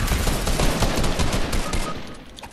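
Rapid automatic gunfire from a video game shooter, a dense burst of loud shots running almost continuously for a couple of seconds before easing off.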